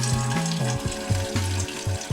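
Water runs steadily from a plastic garden rainwater tap pillar fed by an automatically switching tank pump, a continuous splashing flow with a low, stuttering pulse underneath, close and alone.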